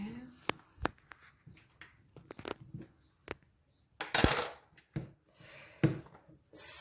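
A small spoon scrapes fresh homemade cheese in a dish, giving close, sharp clinks and brief scraping strokes at irregular intervals with quiet pauses between, one longer rasping scrape in the middle.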